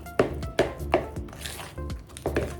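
A spoon scrapes and taps rhythmically against a bowl, stirring thick savory muffin batter like thick sour cream in quick repeated strokes, close by with no talking.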